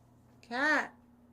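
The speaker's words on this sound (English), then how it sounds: "Sorry, she was meowing at me." A pet cat gives one clear, rising-then-falling meow lasting about half a second, close and fairly loud against a quiet room with a faint low hum.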